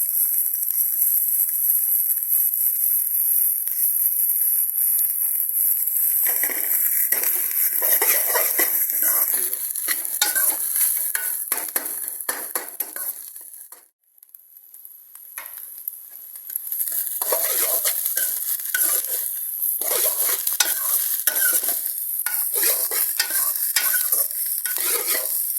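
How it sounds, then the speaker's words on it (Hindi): Chicken frying and being stirred in a pan for restaurant-style chicken fried rice, a loud continuous sizzle with scraping spatula strokes and metal clatter, easing briefly in the middle before resuming. "चिकन डाल देंगे। इसको अच्छी तरह पका लेंगे।"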